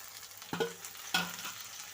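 Chopped tomatoes go into onions already fried in a pan for a flat bean and tomato curry. A steady close sizzle runs throughout, with two distinct stirring scrapes. No one speaks.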